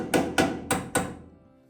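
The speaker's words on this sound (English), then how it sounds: "Just let me tap it back in with a hammer." Four sharp metallic hammer taps on the body panel of a 1946 Willys CJ-2A in a quick, uneven rhythm, each ringing briefly before a short fading resonance.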